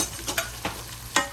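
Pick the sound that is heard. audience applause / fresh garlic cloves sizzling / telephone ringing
fresh garlic cloves sizzling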